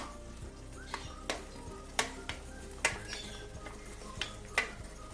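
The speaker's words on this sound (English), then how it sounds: "I am going to add the fish, the fried fish, to the gravy." Fried fish going into a pan of boiling gravy, with soft bubbling and sizzling under a series of sharp clinks and scrapes from a utensil against the pan, fairly quiet and close, no talking.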